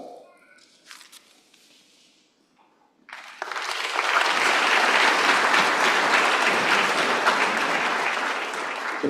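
An audience at the 2025 UWLA graduation ceremony bursts into loud, sustained applause after a few seconds of quiet speech, the clapping dense and continuous until the end.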